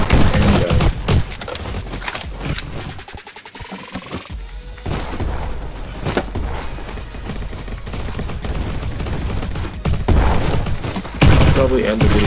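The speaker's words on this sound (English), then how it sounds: "Just going to throw a grenade through there" Grenade thrown and exploding in the Roblox game Egg Hunt 2020, set amid continuous loud gunfire and thudding blasts that run through most of the stretch, with a brief quieter gap before the noise resumes.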